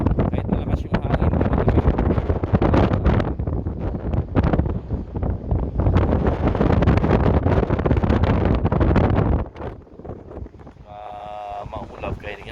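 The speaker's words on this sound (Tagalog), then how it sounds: "Kahit malakas yung hangin." Strong wind buffets the microphone in loud, continuous gusts outdoors near a motorbike, easing off briefly near the end, with a voice heard faintly beneath.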